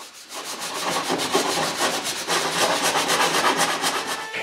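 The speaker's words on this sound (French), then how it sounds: "quand le grain du bois change, il faut utiliser une râpe" A wood rasp shapes a cedar board for a patio table, producing loud, dense, rapid scraping strokes in a steady back-and-forth rhythm, close up and without talk.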